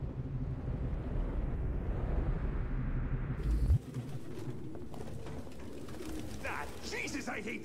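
Doves coo steadily in the video game Detroit: Become Human, a soft, close cooing amid a low ambient rumble that shifts abruptly midway, with faint speech in the background.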